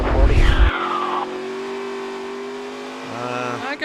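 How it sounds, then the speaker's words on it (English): A NASCAR race car driven by Justin Allgaier at Richmond spins its tires, a loud roar and whine that sweeps down and fades, followed by steady engine drone and another car passing near the end. "spinning the tires by Justin Allgaier right there"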